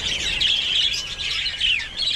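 Farm birds chirping and tweeting busily as they approach people carrying leaves near fattening cattle, a dense overlapping chorus of high calls, close and lively, with no talking.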